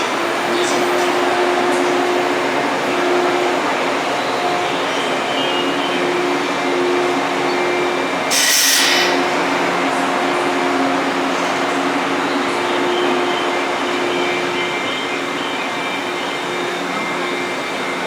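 A JR East 185 series train sits at a station with a steady loud hum and rumble, joined by a brief sharp hiss partway through.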